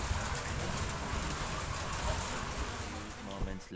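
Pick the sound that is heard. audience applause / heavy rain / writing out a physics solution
heavy rain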